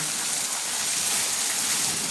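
Steady, dense rain falls continuously, a broad hiss of drops with no voices and no breaks.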